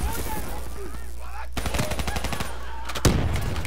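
Rapid automatic gunfire from the Call of Duty Black Ops 3 co-op campaign rattles in quick bursts, loud and close, with a heavier blast near the end amid ongoing battle noise.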